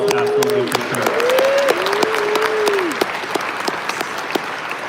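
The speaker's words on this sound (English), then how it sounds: "A round of applause for yourselves, absolutely for sure." Convention crowd applause at Adepticon with scattered sharp claps, accompanied early on by cheering or whooping voices that fade, leaving lighter clapping toward the end.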